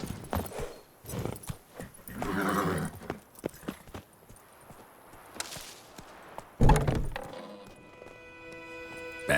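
Hoofbeats of Roach, Geralt's horse in The Witcher 3 on PC, clop along in irregular bursts with occasional thuds, mixed with game ambience and a brief louder knock near the end.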